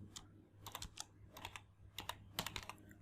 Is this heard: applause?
no